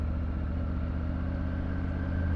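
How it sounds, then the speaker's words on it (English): Triumph Tiger 900 GT Pro on its stock exhaust, a steady low engine drone at even revs while riding, constant and moderately loud with no throttle changes. "this one has got the stock exhaust, and the stock exhaust has got a really nice sound to it as well"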